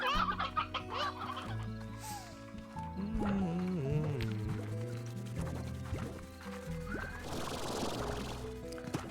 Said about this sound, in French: il y a tellement de poules ici